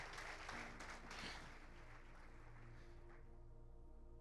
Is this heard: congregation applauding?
yes